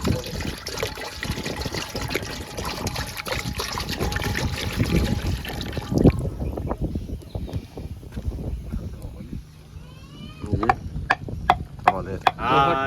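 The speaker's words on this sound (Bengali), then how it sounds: "এখন পানিটা দিয়ে দিলাম।" Water pours steadily into a cooking pot for pasta, a loud, close gush and trickle for about six seconds before it stops, followed by quieter clatter and a voice speaking near the end.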